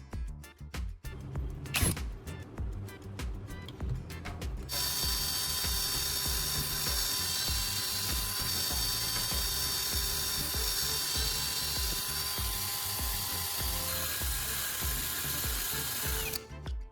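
A power drill boring into a spoon handle clamped in a vise: a brief ratcheting chatter, then a sustained high whining drill tone running steadily for over ten seconds, close and continuous, before cutting off near the end.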